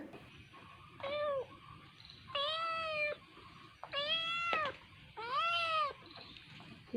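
A small kitten meows four times in a row, each cry high, drawn-out and close, separated by short quiet gaps.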